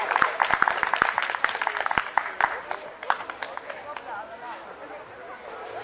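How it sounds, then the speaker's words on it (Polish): An audience at a charity concert claps, a dense patter of applause that starts strong and thins out toward the end, with speech in the background. "wielkie brawa."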